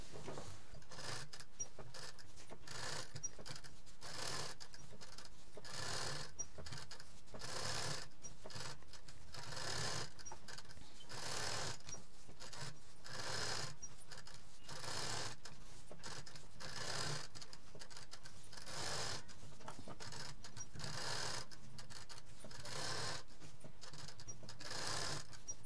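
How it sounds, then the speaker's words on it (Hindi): A sewing machine stitching long seams on a fabric pencil pouch, running steadily with a fast, even mechanical pulse throughout. "इसमें हम इस तरह से लंबी लंबी सिलाई करेंगे"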